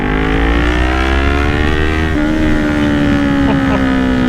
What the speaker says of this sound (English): Second gear pull and that was uphill